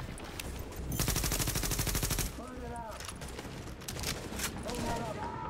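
Gunfire aimed at a tank in The Division, starting with a rapid sustained automatic burst and followed by scattered shots with ringing metallic pings, as people talk over it.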